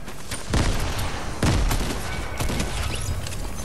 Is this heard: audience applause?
no